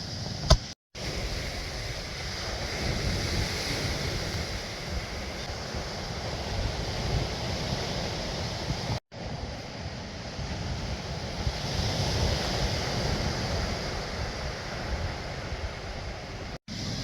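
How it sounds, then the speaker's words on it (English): Sea surf roaring steadily onto the Jurassic South Coast shoreline, a loud continuous wash of breaking waves with wind buffeting the microphone throughout, no talking. "So as this sea roars in, I'm really hoping that you guys can hear me"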